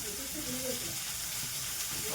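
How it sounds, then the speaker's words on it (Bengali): Chopped onions frying in a pan until reddish-brown, heard as a soft, even sizzle and hiss that runs steadily throughout. "এখন পেঁয়াজ লাল লাল করে ভাজা হয়ে গেছে"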